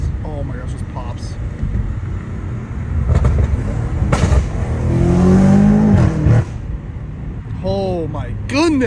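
BMW M5 Competition fitted with catless downpipes, its exhaust crackling and popping with loud engine revs close to the microphone, while someone talks excitedly over it.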